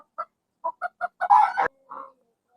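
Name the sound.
KT chicken clucking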